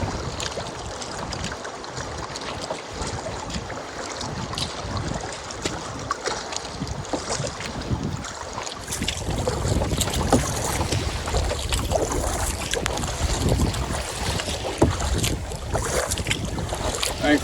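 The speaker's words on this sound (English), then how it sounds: "Thankfully, we've got the wind with us." Strong wind and lapping waves around a canoe on the French River's Old Voyager Channel, a constant rushing roar with water sloshing that grows louder and more turbulent partway through, no voices.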